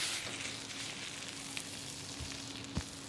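Pork sizzles steadily as it fries in hot curry paste for a Thai pork curry, a close, even crackling hiss throughout with a few small stirring knocks.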